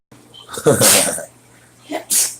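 A single loud sneeze up close, followed by a short breathy sniff or exhale.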